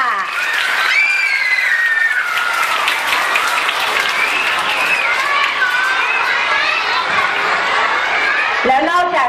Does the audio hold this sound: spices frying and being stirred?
no